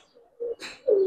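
A military pigeon coos close by, giving a couple of short low coos with a brief flutter or rustle between them, with no talking.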